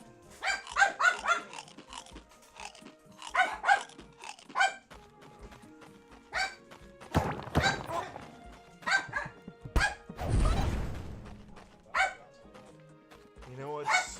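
Dogs barking close by in loud, irregular bursts of single and doubled barks, mixed with yips, a brief scuffling crunch and some rustling.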